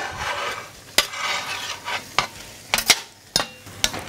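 Pieces of beef brisket are stirred in a pot with reducing vinegar for carbonade flamande, making irregular scraping clinks of the utensil against the pot over a soft sizzle, close and uneven.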